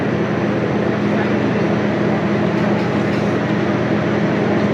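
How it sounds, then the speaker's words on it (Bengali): The Sundarban Express arrives at Mobarakganj station with a loud, continuous rumble and roar of the train, steady throughout. "সুন্দরবন এক্সপ্রেস প্রবেশ করছে।"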